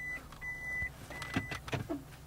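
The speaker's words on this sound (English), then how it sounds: "I like how it beeps like I'm backing up truck." A car sounds short, evenly spaced electronic beeps like a reversing truck's alarm, a few quiet tones followed by brief thumps and faint car noise.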